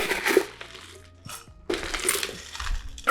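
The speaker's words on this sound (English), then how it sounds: "I'm going to prep our glass with pebble ice." Small pebble ice tumbles and clatters into a cocktail glass in several quick, close rattling pours separated by brief pauses, with no voices.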